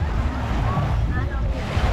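Sea waves wash onto a beach in a steady, rushing surf with wind buffeting the microphone, heard briefly and fairly close, with people chatting faintly in the background.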